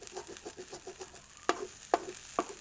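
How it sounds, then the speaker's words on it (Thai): Food is stir-fried in a pan after the heat is switched off, with a faint sizzle under a quick run of regular spatula taps followed by three louder, sharper scrapes against the pan. "แล้วก็ผัดไปสักพักนะคะ"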